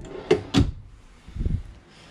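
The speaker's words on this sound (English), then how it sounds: "You got some drawers down below here as well." Drawers in the kitchen of a 2021 Winnebago Spyder 29STT toy hauler travel trailer slide and knock shut, two quick close clunks followed by a softer rumbling slide, close up with no talk.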